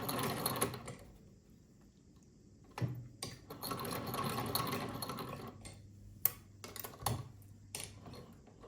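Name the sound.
vintage sewing machine stitching an inside leg seam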